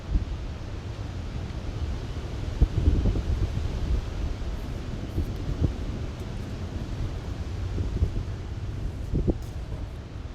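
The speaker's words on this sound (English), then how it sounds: "Here comes the wind." Wind blows outdoors in a steady, low rumbling roar that buffets the microphone, with a few brief gusts and no voices.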